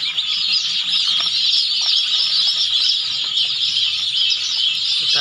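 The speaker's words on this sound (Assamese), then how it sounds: "টাৰ্কি মুৰ্গীৰ পোৱালি।" Royal turkey chicks chirp continuously in a dense, high-pitched chorus, close and loud, with occasional faint rustling and flapping beneath the calls and no speech.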